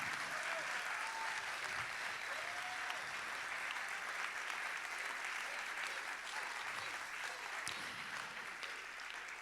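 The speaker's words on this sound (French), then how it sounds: "un tonnerre d'applaudissements pour Séverine Vallereau" A conservatoire audience at a children's show of Boucle d'Or in Saint-Raphaël gives loud, sustained applause, a thick, even roar of many hands clapping without a break.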